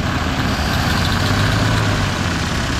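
A 1959 Oldsmobile Dynamic 88 V8, revived after sitting for years, idles with a steady, loud low rumble up close, its fuel pump running nearly dry, with no other sounds intruding.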